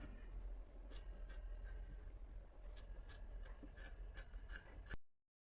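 Scissors cut through folded skirt fabric in a run of short snips and crisp slices over a steady low rumble, close and moderately quiet, with no talking.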